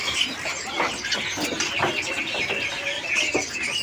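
Short-tailed murai palangka songbirds at a kiosk in Pramuka bird market after heavy rain, giving bright, repeated chirps and tweets that overlap in a steady, busy chorus close by, with no talk.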